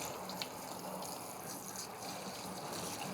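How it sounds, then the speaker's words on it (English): Running water pours steadily from a tap while a part of a Miele built-in coffee maker is rinsed beneath it, a constant close-up splashing wash. "So just make sure we get a good rinse on that."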